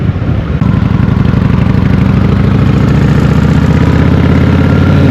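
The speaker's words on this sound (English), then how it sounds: "this bike exhaust note is better" Vintage Honda motorcycle exhaust note on back roads, a loud, steady close-up engine throb with a lumpy low pulse that holds even throughout.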